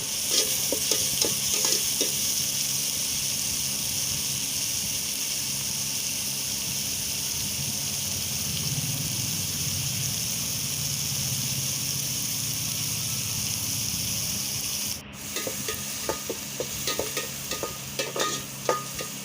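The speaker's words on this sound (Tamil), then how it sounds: "இப்போ தக்காளி சேர்த்துக்கலாம். நல்லா வதக்கி விட்டுக்கோங்க." Tomatoes sautéing in a pan for a sambar, giving a loud, continuous close-up sizzle. Clicks of stirring come in at the start, and brisker scraping of a utensil follows near the end.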